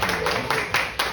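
Parents clap in brief applause at a school parents' meeting, a short burst of scattered hands with a few sharper claps standing out.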